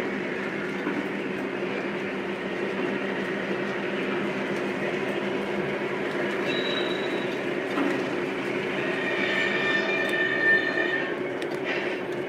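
A Lionel model streetcar runs steadily along its track, a low continuous rumble and whir with faint high squeals toward the end.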